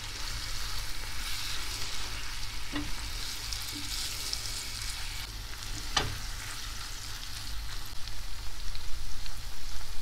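Chopped peppers and sun-dried tomatoes fry in a pan with a steady, close crackling sizzle, punctuated by a few sharp clicks of a utensil, the frying growing a little busier toward the end.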